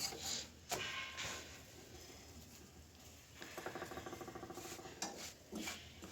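Paratha being turned and oil spread across a hot pan, with soft scraping, clinks and a brief rhythmic patter of spatula strokes, close and quiet, no talking.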